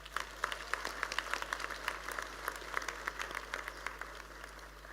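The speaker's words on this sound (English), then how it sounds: "a round of applause?" Graduation ceremony audience applauding in a large hall, many distinct hand claps rattling steadily at moderate distance over a low hum, fairly quiet and even throughout.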